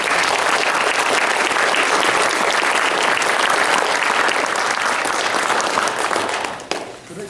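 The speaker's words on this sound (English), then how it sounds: "So a round of applause for all of these people." Sustained applause from an audience at a board members' introduction, dense and loud clapping that holds steady before trailing off near the end.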